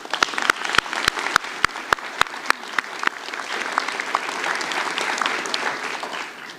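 At West Shore Community College's 2025 commencement, a few sharp, separate claps ring out first. They grow into a broad, steady wash of audience applause that carries on to the end.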